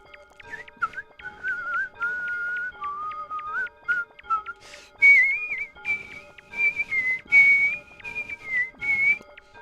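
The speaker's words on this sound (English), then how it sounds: "So I really do hear the Kill Bill whistle" A whistled Kill Bill tune plays in the PS1 demo of the Yume Nikki remake, a clear melodic line over a steady electronic backing, shifting higher partway through.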